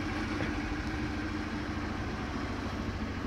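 A warm Piaggio Zip four-stroke scooter idles nearby, a steady, loud, even engine putter with constant exhaust noise and no talking.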